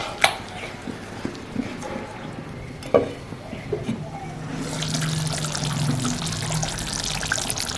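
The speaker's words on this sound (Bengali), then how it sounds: "ধোয়া জলটা এবার দিয়ে দেবো।" Rinse water is poured into a pan of Mughlai chicken, with a soft trickle and splash that swells into a steady rushing pour in the second half, preceded by a few faint knocks in a quiet kitchen.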